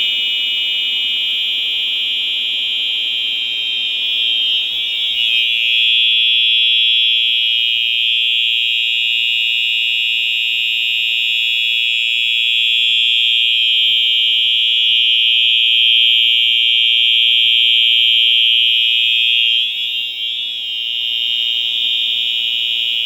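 A Silent Knight 5820XL fire alarm system's horn blares continuously after a pull station is activated, loud, steady and close, with no talking over it.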